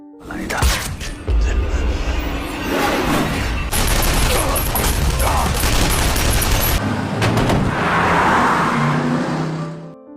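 Loud chaotic scene with bursts of gunfire mixed with engine roar and booming impacts, continuous and dense, with voices underneath.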